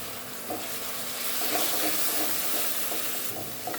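Potatoes fry in spice paste for a pabda fish curry with cauliflower and tomato, a steady close sizzle broken by several soft scraping stirs, with no talking.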